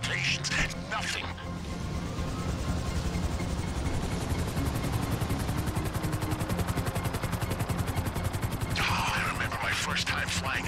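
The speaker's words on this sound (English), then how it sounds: "First time flying an agency helicopter." Helicopter rotor in GTA Online: a loud, steady rhythmic chop of an agency helicopter in flight that fills most of the stretch, with a burst of other game noise at the start and end.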